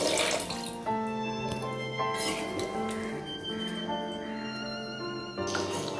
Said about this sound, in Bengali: মশলার সাথে আলু ভালো করে কষানো হয়ে গেলে দিয়ে দিচ্ছি পরিমাণ মতন জল।